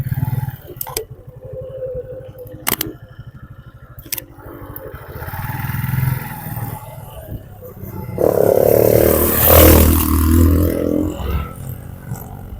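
A motorcycle rolls downhill on a road from Navaja heights toward sitio Casoy in Toledo, Cebu, its engine a steady low rumble that grows louder and busier near the end, with wind buffeting and voices talking over it.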